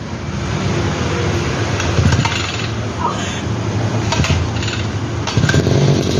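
Husqvarna 541RS grass trimmer running after starting, its small two-stroke engine buzzing loud and close in a steady drone, with a brief rise in revs toward the end and a voice talking underneath.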